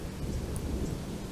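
Thunderstorm rolling in with rain, a steady low rumble of thunder under a constant wash of rainfall, fairly loud and close throughout, with no voices.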